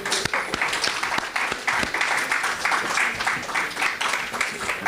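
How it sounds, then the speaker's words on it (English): An academic conference audience claps steadily for several seconds, a busy patter of many hands with a few louder individual claps standing out. "So definitely they deserve another round of applause."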